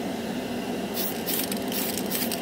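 A Tamiya spray can lays a coat of gold or silver paint, starting with a quiet background and then a steady hissing spray burst of about a second and a half, close and moderately loud.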